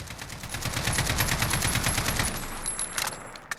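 Sustained automatic fire from an AKMS rifle in Call of Duty Modern Warfare, a rapid unbroken rattle of shots over about two seconds that tapers into a few scattered bursts, loud and close.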